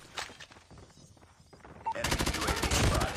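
QXR submachine gun fire in a ranked multiplayer shooter match, quiet scattered shots at first, then a loud, sustained rapid burst for the last second or so.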